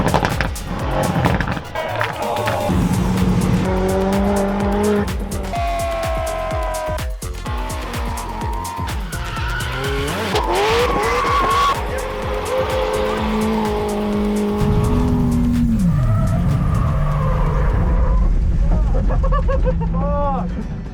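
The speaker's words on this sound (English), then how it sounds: "It's 4 full days of drifting, track action, wild show cars" Cars drifting at the Gatebil festival at Mantorp Park, Sweden: loud, close engines rev and bounce off the limiter while tires squeal in long skids, with a crowd's voices heard underneath.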